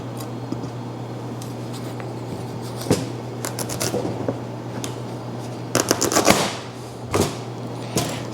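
A knife cuts down through a whole spaghetti squash on a board at a market cooking demonstration, giving several short, close crunching and cracking bursts over a steady low hum, with no talking.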